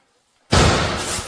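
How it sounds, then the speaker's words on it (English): Inside an abandoned building, a door slams after near silence: one sudden loud bang that booms and rings out, trailing off briefly. "a violent sound erupted from within the building, a bang that shattered the silence"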